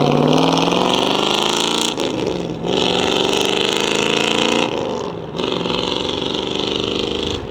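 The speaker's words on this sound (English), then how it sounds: "Smooth shifting car." A 1965 Ford Mustang GT drives past, its V8 roaring loud and close through smooth gear shifts, with two brief dips in the engine note between pulls.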